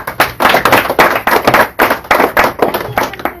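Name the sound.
audience clapping at a devotional song gathering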